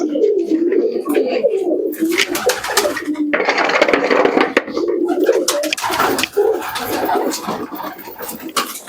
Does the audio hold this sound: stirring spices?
no